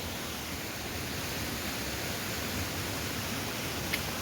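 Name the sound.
loud rushing water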